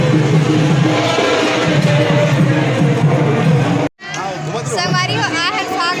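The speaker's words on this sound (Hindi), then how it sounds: "देख सकते हो आप मन संगवारी हो कितना भीड़ है," Dense crowd hubbub at the Rajiv Lochan temple during the Phag festival, a steady loud wash of many overlapping voices that cuts out abruptly, then returns with closer, clearer chatter.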